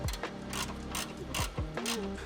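A ratchet wrench tightens a ground wire onto a 10mm bolt during a front grille install on a 2016-2023 Toyota Tacoma, giving several quick clicking bursts up close with a clear metallic rattle, and no talk.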